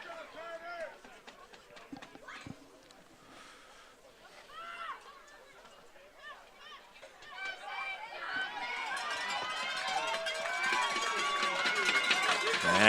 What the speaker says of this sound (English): Dartmouth crowd gets loud here for the big third down.